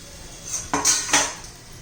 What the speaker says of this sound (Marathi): हे मी आता झाकण काढून घेते